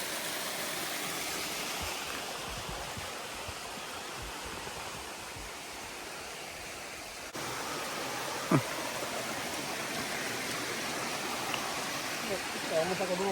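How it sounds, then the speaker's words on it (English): A small waterfall on Buckeye Creek in a wilderness area makes a steady, faint rushing hiss that runs the whole time, with soft talk now and then. "It's almost like a little waterfall right here,"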